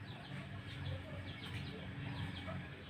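A hen clucks repeatedly in short, soft bursts over a steady, noisy farmyard background, close to the listener.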